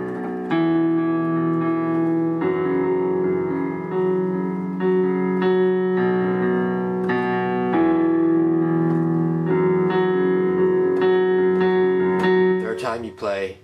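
Left hand alone on piano plays sustained octave chords for a song, moving through the progression in steady changes, loud and close with no talking.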